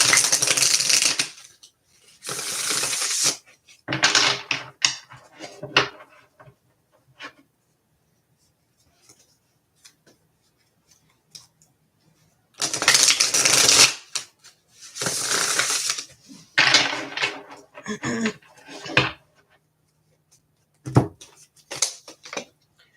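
Bursts of tarot cards being cut and shuffled in a large deck, several riffling passes separated by quiet gaps, fairly close.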